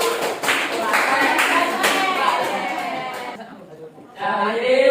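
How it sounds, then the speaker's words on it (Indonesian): Indonesian classroom group applauding a student group during a religious education lesson, a dense wash of claps with some chatter that drops out briefly near the end then resumes. "Beri tepuk tangan untuk kelompok."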